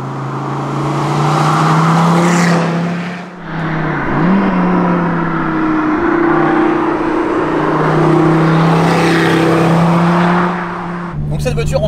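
An SRT Viper GTS engine roars loudly and continuously, its pitch dipping briefly then climbing again as it revs, heard from inside or close by.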